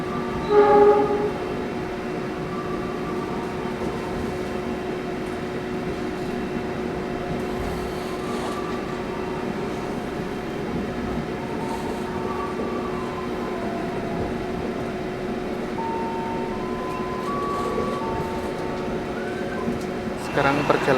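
Brawijaya passenger train running near Cikampek station, a steady rumbling ride noise heard from inside the carriage with faint tonal hums, continuous for the whole stretch.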